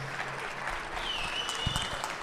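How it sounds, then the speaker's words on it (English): An audience at a live debate event breaks into a short burst of dense, even clapping that holds steady and fairly close, with no clear speech over it. "let's give a round of applause for both of these guys"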